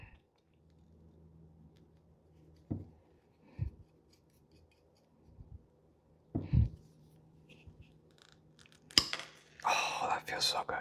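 Milwaukee MT500C linesman pliers bite through a screw: a few faint, sparse snips and clicks, then a louder crunching snap of metal giving way, close up with breathy handling noise around it.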